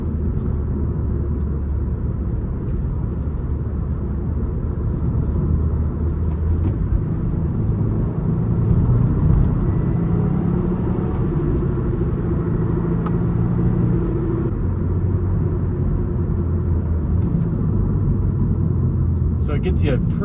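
Manual car engine revving in a quick heel-toe downshift, a steady low engine drone with a brief rise in revs midway as the throttle is blipped, continuous and fairly close throughout.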